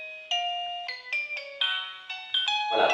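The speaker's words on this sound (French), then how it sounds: "vous avez une note de musique, ce qui vous permet de sélectionner en fait la mélodie de la sonnerie" Electronic ringtone melody from an Extel LEVO or STEP touchscreen video intercom, a bright sequence of clean stepped tones played close and clear for about three seconds, ending with a short burst of noise.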